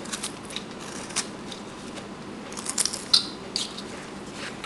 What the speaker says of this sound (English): I'm going to draw my knife across there.